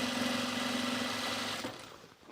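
A sewing machine runs at a steady hum through thick fabric, a close mechanical drone that stops abruptly near the end and leaves faint rattles, with no talking.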